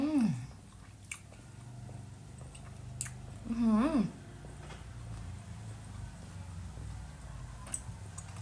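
Someone chews spicy fried rice with fish balls and dried chilies toasted with garlic, making soft, close, moist chewing sounds, with two brief hummed voice sounds.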